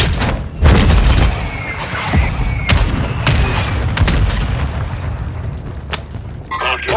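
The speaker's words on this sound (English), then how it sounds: "Mortar support incoming." Mortar strike explosions landing in Call of Duty: Modern Warfare II, a series of heavy booms and thuds rolling over constant battlefield rumble, close and loud, with a radio-style voice briefly at the end.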